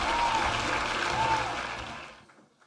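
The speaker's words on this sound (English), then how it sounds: "Clap very well now" Applause from an audience at an award presentation ceremony, a short burst of many hands clapping that fades out within a couple of seconds, with a faint tonal sound over it.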